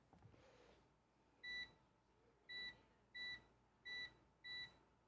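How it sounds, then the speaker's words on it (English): A kitchen timer for baking bread in a 350-degree oven beeps five times in short, evenly spaced pulses, fairly faint over a quiet room hum, with no speech. "Set the timer."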